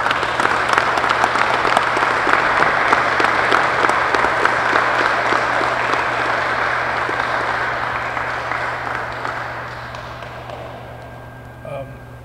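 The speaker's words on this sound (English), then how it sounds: "Please give it a round of applause." Audience applause at a gym dedication ceremony, a dense crowd of clapping that holds loud for several seconds and then gradually thins and fades out in a large indoor space.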